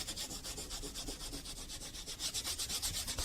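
A foam glove scrubs plastic trim on a car door panel in quick, even back-and-forth strokes, a soft rhythmic rubbing close up and alone.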